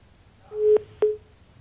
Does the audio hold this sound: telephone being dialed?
yes